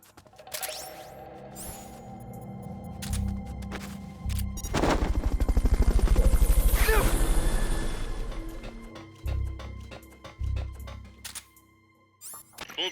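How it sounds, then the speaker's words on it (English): A helicopter in the Metal Gear Solid Peace Walker video game thumps in with a loud, rapid rotor chop that swells, then fades, amid sharp bursts and clicks. "Fulton recovery subject confirmed onboard helicopter."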